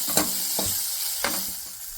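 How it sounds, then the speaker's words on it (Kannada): Onion, garlic and chilli roast in hot oil in a pan, a close steady sizzle broken by a few sharp scraping stirs of a utensil. "ಹಚ್ಚಿಟ್ಕೊಂಡಂಥ ಈರುಳ್ಳಿ, ಬೆಳ್ಳುಳ್ಳಿ, ಮೆಣಸಿನ್ಕಾಯಿ ಎಲ್ಲ ಹಾಕ್ಕೊಂಡು ಒಂದು 5ರಿಂದ 6 ನಿಮಿಷ ರೋಸ್ಟ್ ಮಾಡ್ಕೊತಾ ಇದ್ದೀನಿ"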